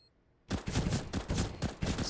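Rapid bursts of CZ-75 pistol fire in Counter-Strike on the Vertigo map at a pro match, a quick string of sharp close shots starting abruptly after a short silence, about seven evenly spaced cracks.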